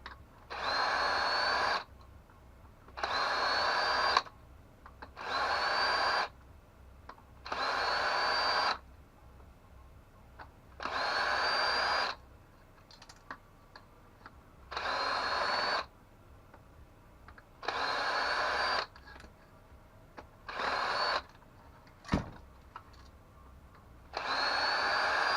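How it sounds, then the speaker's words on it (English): Power drill backing screws out of a circuit board, in about eight separate whirring bursts of a second or two each with short pauses between, close and clear, no speech. "Let's get rid of the screws."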